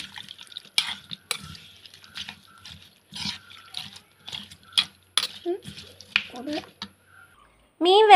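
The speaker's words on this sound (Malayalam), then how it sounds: "മീൻ വേകാൻ ആവശ്യമായ വെള്ളം നമുക്ക് ചേർത്ത് കൊടുക്കണം." Water poured into a dried shark fish curry with ground masala, followed by scattered close stirring clinks and wet drips in a pan, with a brief voice near the end.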